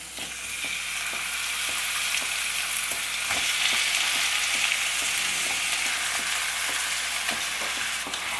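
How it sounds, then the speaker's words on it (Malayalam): About three-quarters of a kilo of small chicken pieces frying with onions in a pan for chicken pulao make a loud, continuous sizzle, punctuated by light clicks of stirring, with no speech. "ഇതിലേക്ക് നമുക്ക് ചിക്കൻ ചേർത്ത് കൊടുക്കാം"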